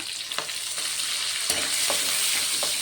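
Onions, garlic and curry leaves sauté in a pan with a constant loud sizzle, broken by a few scraping stirs of a spoon, close up with no voices.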